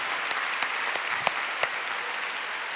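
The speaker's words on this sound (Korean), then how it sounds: "머리가 하얗신 분들을 위해서 박수." Steady congregation applause during a Friday night church service, a dense even wash of clapping with a few sharper individual claps standing out, continuing throughout.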